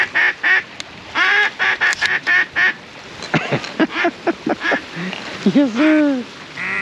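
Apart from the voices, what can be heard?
ducks quacking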